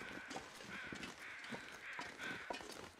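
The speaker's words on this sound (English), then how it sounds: "I hear crows." Crows caw repeatedly in the video game The Long Dark, several harsh calls spaced across the moment, fairly close, over a steady wind-like ambient background with no talking.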